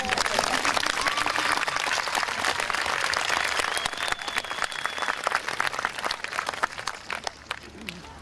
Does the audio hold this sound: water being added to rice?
no